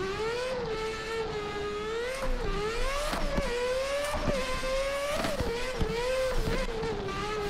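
Drift car ripping a run at Irwindale, engine revving and wailing in rising and falling sweeps with sharp throttle blips, loud and continuous with no talk.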